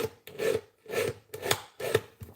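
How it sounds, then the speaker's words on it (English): A hand file rasps against a rough metal edge on a custom lock pick at a workshop bench, four steady back-and-forth strokes in an even rhythm, close and clear with no talk. "There looks to be a little bit of a rough edge on there, so I'm going to"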